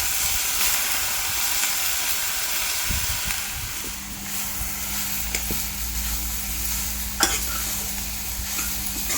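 Colocasia leaves and grated coconut sauté in a hot pan, a steady soft sizzle with occasional stirring scrapes and a few sharp utensil taps, close and without talk.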